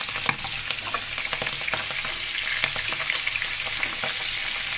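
Pangas fish pieces fry in hot oil with a dense, steady crackling sizzle, punctuated by sharper pops and occasional stirring clinks, close and without talk.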